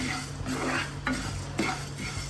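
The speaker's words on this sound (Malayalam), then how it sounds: "ഒന്ന് മൂപ്പിച്ചെടുക്കാം നമ്മൾ ഈ കുരുമുളകും മല്ലിയും ഉലുവയും കൂടെ ഒന്ന് മൂക്കണേ" Black pepper, coriander seeds and fenugreek dry-roast in a pan for a coconut-free fish curry, a loud close rattle and scrape of stirring over a soft sizzle, in steady repeated strokes.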